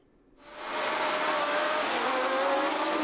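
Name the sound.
1970 Formula 1 racing cars at race start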